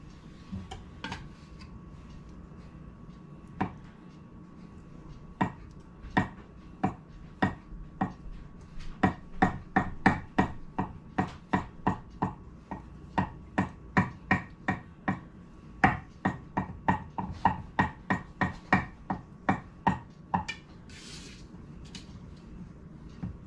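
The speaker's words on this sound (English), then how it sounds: "We're going to go ahead and chop up our eggs." A knife chops boiled eggs repeatedly on a cutting board, sharp close taps in an irregular but steady rhythm, sometimes rapid, with brief pauses between runs.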